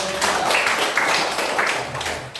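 A class of children clapping hands together in a classroom, a dense burst of claps lasting a couple of seconds at moderate loudness.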